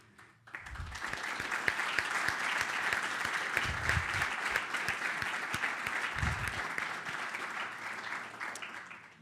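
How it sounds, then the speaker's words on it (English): Audience at a digital publishing summit opening applauds in a sustained burst of dense clapping that swells quickly, holds steady for several seconds, then tapers off, with a few low thumps beneath. "join me in applauding the work of our previous president, Virginie Claessen"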